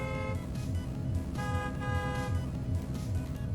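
Repeated car horn honks in the video game 80's Overdrive, a series of short toots in a steady rhythm over engine noise, fairly close and clear.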